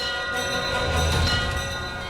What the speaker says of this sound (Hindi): ये ऊपर वाले मंदिर की घंटी की आवाज है, शायद हवा से बज रही होगी